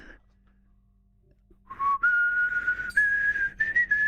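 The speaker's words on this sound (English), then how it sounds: "Oh, better not whistle that." A person whistles a short, wavering tune up close, starting after a quiet pause and continuing in several clear phrases.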